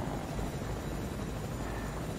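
Steady, loud whirring rotor and engine drone of a helicopter in the Fortnite video game, continuous and close for a couple of seconds with no talk.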